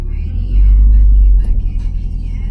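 Nissan 240SX with its bumper and fenders removed, engine idling in a garage: a loud, steady low rumble that swells around the first second, then settles into a rougher running idle with a few faint background noises.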